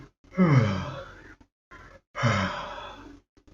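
Two drawn-out yawns come from a person demonstrating a voice exercise, each a breathy, groaning exhale lasting about a second, separated by a short silence.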